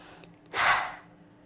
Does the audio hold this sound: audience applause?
no